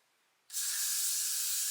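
A sudden burst of Got2b hairspray starts after a short quiet moment and hisses steadily around the hairline, close and loud, until the end.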